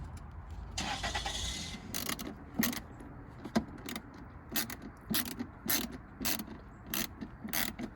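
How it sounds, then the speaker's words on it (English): Small screws being unscrewed from the bumper of a 2018-2022 Honda Accord, faint close ratcheting clicks and metallic ticks in irregular bursts over a quiet background. "I'm just gonna unscrew it instead of taking it all the way off"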